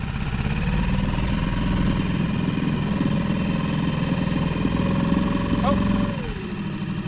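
A dinghy outboard engine idling close by, a steady mid-pitched droning rumble that runs unbroken, then drops slightly in pitch near the end, with a voice briefly talking over it.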